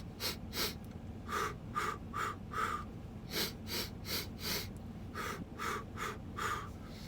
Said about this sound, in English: I go in 4 quick breaths through my nose, and then I go out 4 exhales through my mouth